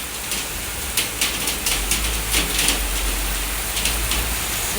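Rain falls steadily outside in Kuwait, a continuous close hiss broken by scattered brighter patters of drops, with no voices.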